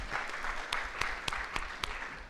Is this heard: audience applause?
yes